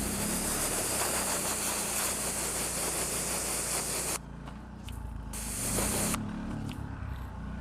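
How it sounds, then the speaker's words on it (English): Hissing spray bursts close by as detailing brushes are sprayed down, one long blast, a short pause, then another spray and a final shorter one. "I'm gonna go ahead and spray down my brushes real quick"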